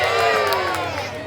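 A crowd yelling and cheering in a burst, loud and close, with excited voices blending together and no clear clapping.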